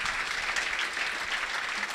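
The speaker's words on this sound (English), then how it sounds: "Can we give a round of applause for how much hard work that they do" Steady, dense applause from a conference audience after a talk on webpack 4, continuous and evenly sustained throughout with no pauses.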